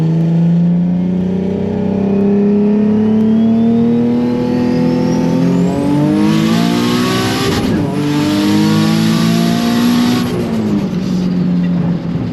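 A loud, close engine of a turbocharged Nissan 350Z revs up steadily under hard acceleration at night, its pitch climbing through gear changes, with a rising whine from the turbo.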